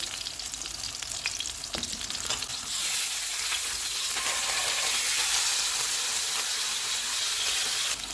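A salmon fillet fries in a pan with a loud, continuous sizzle and hiss that swells after the first few seconds as it is turned, crackling close up with no talking.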